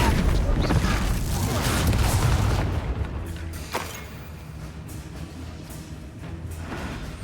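Bombarda explosion spell from the wizarding game Hogwarts Legacy: a loud, heavy rumbling blast fills the opening seconds, then fades into a lower, rolling decay with a few sharper crackles during battle.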